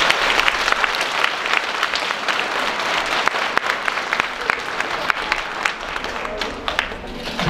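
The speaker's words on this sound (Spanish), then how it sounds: "Nos damos un aplauso fuerte." A congregation at a San Antonio de Padua church service gives strong, sustained applause, a steady roar of many hands with sharper individual claps standing out across the whole stretch.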